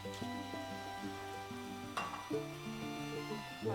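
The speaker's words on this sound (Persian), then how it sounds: "حالا گوجه فرنگی ها رو با کره و برگ بو تفت میدیم." Tomatoes sautéing with butter and bay leaves in a pot for creamy tomato soup, a soft, steady sizzle with occasional stirring scrapes under a gentle melodic backdrop.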